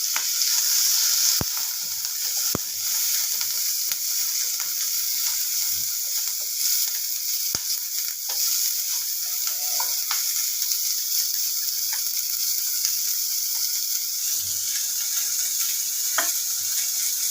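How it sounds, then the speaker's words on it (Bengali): Cumin seeds and dried red chillies fry in hot oil in a wok, giving a steady, close, loud sizzle that holds for the whole stretch, dotted with sharp pops and occasional clinks, with no voices. "দেখুন, ফার্স্টে একটু জিরা দিয়ে দিলাম, শুকনো লঙ্কা দিয়ে দিলাম কড়াইয়ে"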